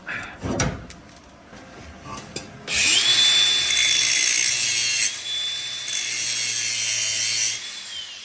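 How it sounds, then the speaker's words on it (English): Grinder working on a part during a 12-valve Cummins swap into a 1946 Chevy, giving a steady high whine that starts after a few knocks and runs for several seconds. "probably do it with the grinder now"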